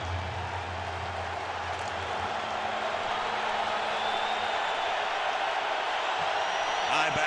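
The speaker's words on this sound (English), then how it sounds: "the crowd at Mall of America Field comes to life for their defense" A stadium crowd at Mall of America Field roars steadily through an NFL game as the defense takes the field, a broad continuous cheer with a commentator talking over it.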